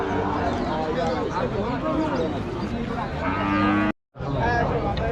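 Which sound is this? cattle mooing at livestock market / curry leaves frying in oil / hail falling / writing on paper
cattle mooing at livestock market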